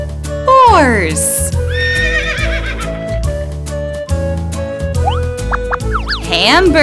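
A horse whinnies in a loud, shaky descending neigh over a bouncy musical backing, with bright synth tones and another whinny near the end.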